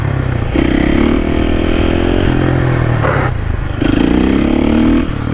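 FS450 supermoto motorcycle ridden alongside two small Grom bikes, its engine droning loud and steady up close with rising and falling revs and a gritty scraping clatter under it.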